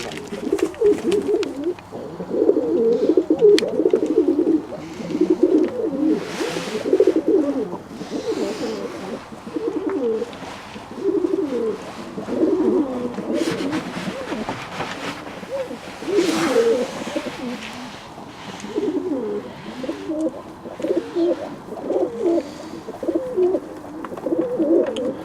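Pet pigeons bred by their keeper coo continuously in low, rolling, overlapping murmurs, several birds close by, with occasional wing flutters and faint chirps.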